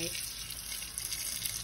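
Tap water runs steadily over a spoon in a sink, a close, continuous hissing splash with no pauses.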